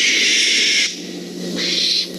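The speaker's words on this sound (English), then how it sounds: "It's another owl." An owl calls in a preschool science lesson on why owls say hoo: a steady breathy screech, loud and near, fading briefly in the middle before a second burst near the end, with no voices.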